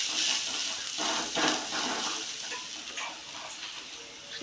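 Turmeric and a spoonful of masala fry in a pan for masala rice, giving a soft, steady sizzle with light stirring scrapes and no talk.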